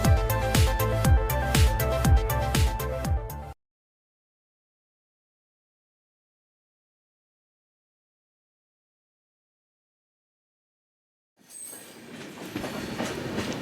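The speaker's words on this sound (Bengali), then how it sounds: "খুব ধীরে ধীরে চললেও ঘড়ির কাঁটা মিটিয়ে একেবারে নির্ধারিত সময়েই ট্রেন এসে পৌঁছলো গন্তব্য স্টেশনে।" A train slowly nears the station on a North Bengal trip, its wheels beating a rhythmic clickety-clack up close, then a long silence, then a rumbling, noisier passage resumes.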